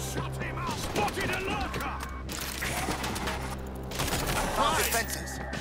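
Rapid bursts of gunfire in the zombie shooter game World War Z, mixed with game effects and music while players talk over the action.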